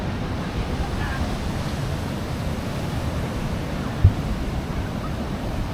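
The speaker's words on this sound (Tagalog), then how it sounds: "Grabe yung alon dito." Ocean waves at a surfing beach wash with a steady rumbling roar, mixed with wind buffeting the microphone and a brief thump, no clear talk.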